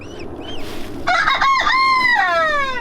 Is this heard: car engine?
no